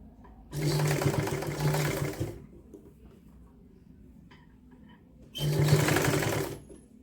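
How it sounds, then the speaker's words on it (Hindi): A sewing machine stitches a homemade woolen sock in two loud, close bursts of fast whirring stitching, each a second or two long, separated by near silence. "इस तरह करके हमने सिलाई कर लेनी है। सिलाई को हमने डबल कर लेना है।"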